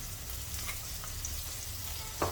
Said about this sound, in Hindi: जैसे ही तेल गर्म होता है इसमें हम लहसुन डाल देंगे और हरी मिर्च का जो हमने पेस्ट कूट कर तैयार किया है उसे डाल देंगे